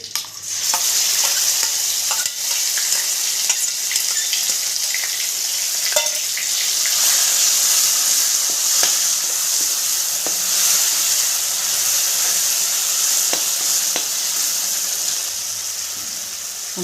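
A paste of tomato, green chili, garlic and coriander, added with curry leaves to browned onions, fries loudly in a pan, with continuous sizzling and crackling and occasional stirring clicks throughout.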